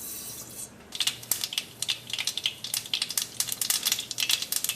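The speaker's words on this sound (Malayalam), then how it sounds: "അപ്പോൾ കടുക് നന്നായിട്ട് പൊട്ടിയിട്ടുണ്ട്" Mustard seeds popping in hot oil in a pan for a traditional Kerala chicken fry, sharp irregular crackling pops coming thick and fast after a brief hiss at the start.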